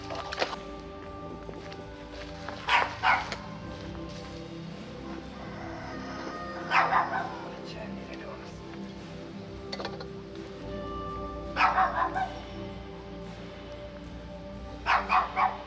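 A dog barks in short bursts of two or three woofs, spaced several seconds apart across the stretch, moderately near against a quiet indoor background with no clear talk.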